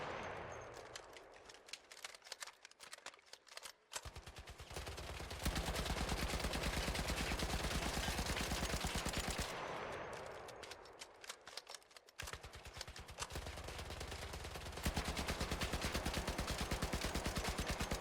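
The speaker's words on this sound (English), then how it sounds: "next up I'm going to show you a mag dump with manual recoil correction where we compare Tempest tier 1, 2 and 3" Tempest rifle in ARC Raiders emptying its magazine in two long sustained bursts of rapid automatic fire, loud and rhythmic, separated by a short pause.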